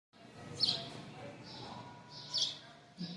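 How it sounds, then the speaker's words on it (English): Birds chirp outdoors in cold weather at a building site, with several short bright calls rising over a low background hum, the loudest bursts near the start and again toward the end. "These birds are everywhere."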